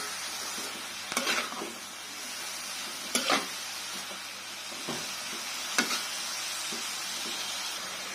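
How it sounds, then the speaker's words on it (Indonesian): Vegetables fry with a steady soft sizzle in a pan while a utensil stirs and scrapes them every couple of seconds, quiet and close with no talk. "Ini kita aduk-aduk terus ya, sampai semua sayurnya itu layu."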